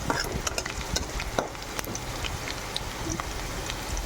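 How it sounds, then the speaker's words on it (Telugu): A tempering of spices fries in hot oil for a broad bean curry, a soft crackling sizzle broken by light scattered pops and the scrape of stirring, fairly faint and close. "ఇది బాగా ఫ్రై చేసుకోవాలి."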